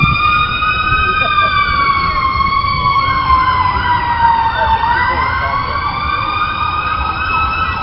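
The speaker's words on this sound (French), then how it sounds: "On va laisser passer la sirène." A loud emergency siren wails steadily, its pitch rising and falling as it passes close by, sounding continuously throughout.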